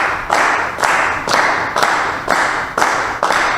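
A workshop group claps together in a steady rhythm, about seven loud, even bursts of many hands striking at once, with no talking.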